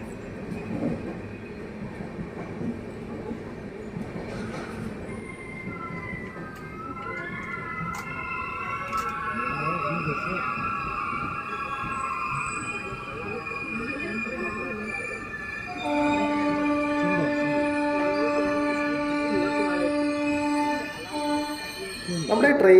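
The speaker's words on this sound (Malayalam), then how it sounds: "ഇപ്പോൾ ഇതായി വന്നുകൊണ്ടിരിക്കുന്ന ഈ കടലൂർ പോർട്ട് മൈസൂർ എക്സ്പ്രസിനും ഈ മാണ്ഡ്യ റെയിൽവേ സ്റ്റേഷനിലും സ്റ്റോപ്പ് വരുന്നുണ്ട്" The Cuddalore Port–Mysore Express pulls into Mandya railway station, a low rumble building with a sustained multi-tone horn blaring loudly near the end, over faint background talk and station noise.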